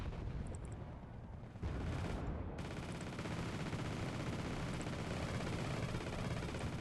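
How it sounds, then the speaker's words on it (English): Artillery fire in the video game Wargame Red Dragon produces dense, rumbling explosions and booming gunfire that merge into a continuous loud roar, with no talking. "oh look at this artillery at that location"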